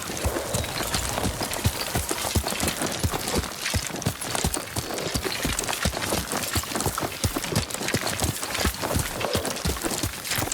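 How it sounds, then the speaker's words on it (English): Horse hooves in the video game Ghost of Tsushima, a steady, rapid galloping clatter that continues without a break, loud and close. "Yuriko's horse. She can't be far."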